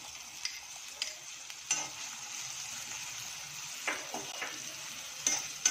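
Onion slices sizzling in hot oil in a pan, a steady hiss broken by occasional scraping and clicking as they are stirred, close and without voices.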